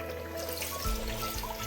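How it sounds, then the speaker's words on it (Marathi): Mutton stock is poured into a simmering spicy mutton curry, making a steady close splashing pour with a brief deeper gurgle and slosh partway through. "आता यामध्ये टाकून घेऊया आपलं बॉईल केलेलं पाणी."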